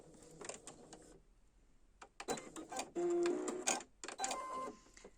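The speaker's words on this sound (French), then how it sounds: "Et je termine avec 3 points arrière." Sewing machine backstitching three stitches on fabric for an extra-large scarf, heard as quiet bursts of rapid mechanical stitching with short pauses, loudest near the middle, with no talk.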